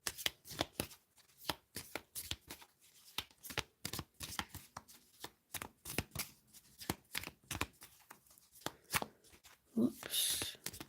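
Tarot cards are shuffled close up in a long run of quick, crisp riffles and slaps with an uneven rhythm, quiet overall, and someone speaking softly underneath.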